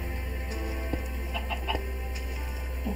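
Clucking chickens in a video game, a few short soft calls scattered over a steady low background hum, fairly faint with no talking.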